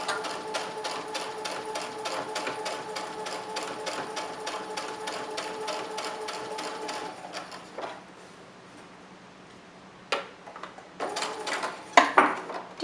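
A sewing machine back tacks a fabric mask strap in a rapid, even run of needle stitches for several seconds, stops briefly, then resumes with short bursts and a few light handling clicks nearby.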